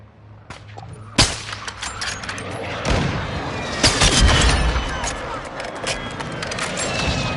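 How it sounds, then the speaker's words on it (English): Airstrike explosions in a video game hit as a dense barrage of loud, close booms and crackling gunfire bursts, layered over continuous rumbling battle noise. "Friendly airstrike in the AO."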